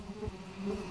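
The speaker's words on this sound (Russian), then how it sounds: "Хорошо в лесу, но мухи летают." Flies buzz close by in a forest, a steady insect drone that swells and fades briefly, with no voices.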